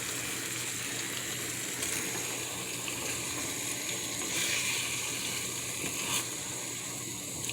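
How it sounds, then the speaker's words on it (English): Water poured into a pan of cooking curry potatoes gives a soft, continuous rush and sizzle, fairly faint and steady, with a few brief louder splashes and no talking. "Then you're just gonna add a little bit of water. Maybe about a cup of water"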